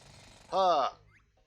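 A short, loud mechanical drilling burst from Grunty Industries in the Banjo-Tooie video game, lasting about half a second over faint background game sound.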